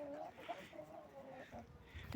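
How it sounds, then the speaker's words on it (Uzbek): Large black hens cluck softly and repeatedly at a distance, a low, busy murmur of chicken calls. "katta tovuqlar ekan"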